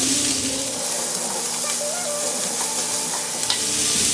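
Vegetables sizzle steadily in olive oil in a pan, a continuous close frying hiss with occasional small pops and stirring clatter, no voices.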